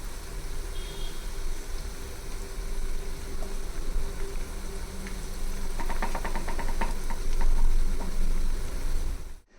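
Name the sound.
vada frying in oil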